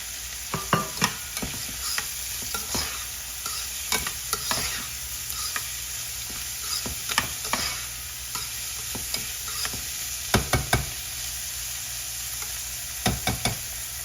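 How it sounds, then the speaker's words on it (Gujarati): Roasted peanuts stirred in a hot pan for leftover roti bhel, a low sizzle throughout with repeated scraping clatters from a spoon at irregular intervals, close and without talk. "હવે એને થોડું શેકાવા દઈશું."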